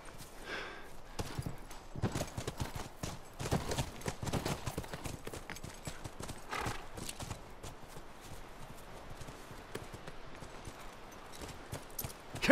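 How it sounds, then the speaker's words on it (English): Horse hooves clip-clop in a steady walking rhythm in The Last of Us Remastered, close and fairly quiet, with no one talking. "Come on, back to the horses."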